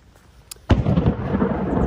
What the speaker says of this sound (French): Oh, le bel éclair.